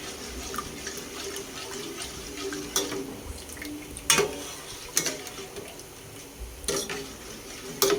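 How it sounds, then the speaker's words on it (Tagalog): Coffee gulaman powder being stirred in water in a pot as it cooks: soft liquid swishing with a run of sharp spoon clinks against the pot's side, spaced unevenly, close by. "Haluin lang po natin yung gulaman powder hanggang sa maluto po siya."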